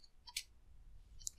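A few quick, light computer mouse clicks at a desk during Unity 5 game editor work, spaced apart and faint over a low background hum, with no voice.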